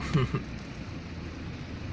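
Rain patters steadily in the background, with a brief low murmur near the start before the even hiss continues alone.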